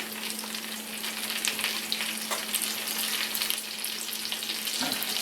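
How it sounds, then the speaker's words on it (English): Mushrooms sauteing in a pan as an addition to beef stroganoff Hamburger Helper, a steady close sizzle and crackle running throughout with a faint stir or scrape near the end and no talking. "One of the nice additions to the beef stroganoff version of Hamburger Helper is some fried mushrooms."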